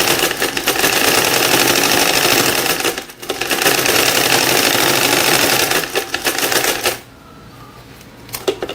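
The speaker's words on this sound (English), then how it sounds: "We start sewing." A sewing machine runs loudly and steadily while stitching fabric. There is a brief pause partway through, then the whirring and clatter resume before stopping near the end, leaving quiet handling noise.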